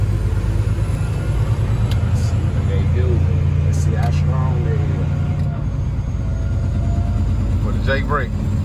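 Loud, rough engine rumble of a Western Star big rig truck under Jake brake engine braking, running steadily close by while a person talks over it.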